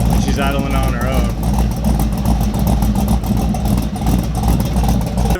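A cammed Chevrolet Silverado truck with a 5.3 LS engine idles on its own with a steady, close, low rumble. A person talks over the engine for much of the stretch.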